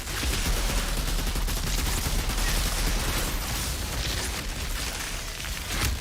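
Video game gunfire rattles loudly and without pause, dense rapid shots and booms layered into a continuous roar from start to finish.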